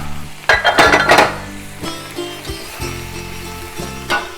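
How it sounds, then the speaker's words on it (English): Bean sprouts tossed into a hot wok for a shrimp stir-fry, with metallic clanks and clinks of a utensil against the wok over a faint sizzle, loud and close, a few distinct knocks spread across a few seconds. "And now we will add the bean sprouts."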